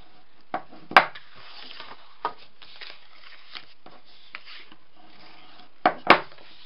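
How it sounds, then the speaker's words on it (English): Scored card stock being folded and burnished along its crease lines: soft, sporadic rubbing strokes with a few sharper crisp presses near the start and end, close and quiet in an otherwise still room. "So I'm just going to fold and burnish my score lines."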